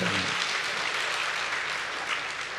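Church congregation applauding to give glory to God after a pastor's ordination: dense, sustained clapping fills the room at an even level throughout, with no pause.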